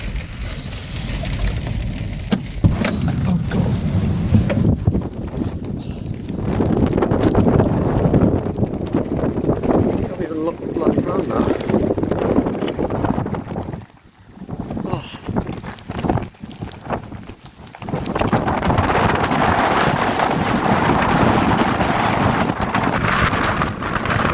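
Gale-force wind on an exposed coastal headland buffets the microphone in loud, roaring gusts that rise and fall, easing briefly in the middle before surging back hard.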